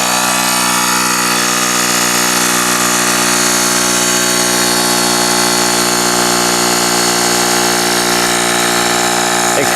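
A Gooloo GT160 portable tire inflator pumps air into a tire, a steady loud motor hum with a dense buzzing drone that runs unbroken throughout and holds constant, with no voices over it.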